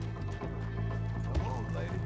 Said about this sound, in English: Why is my horse so bad?